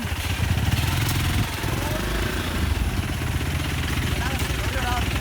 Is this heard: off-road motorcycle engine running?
yes